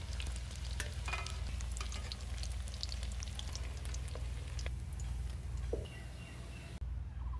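Banana flower frying in hot oil, a steady close sizzle with scattered crackles and pops that runs for several seconds and then cuts off sharply near the end.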